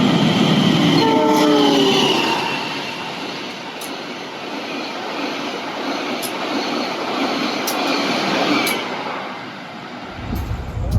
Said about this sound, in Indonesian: Baru saja kereta api Mutiara Selatan dari Surabaya Gubeng, tujuan akhirnya juga ke Bandung ya teman-teman